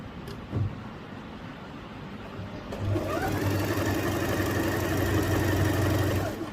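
A Singer 8280 sewing machine stitches a thin cord, quiet at first with a soft knock, then starting a steady whirring run that continues close and even for several seconds.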